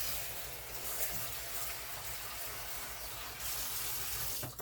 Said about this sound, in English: Wash your rice the way you want to wash your rice.